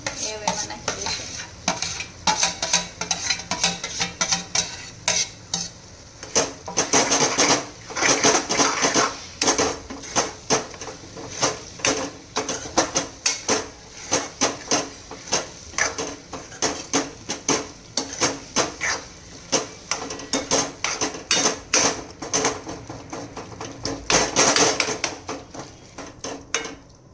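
Baingan bharta, a smoky roasted eggplant mash, being stirred and mixed in a pan, with steady scraping, clinking of a metal spoon against the pan and a soft sizzle, louder in bursts, with no talking.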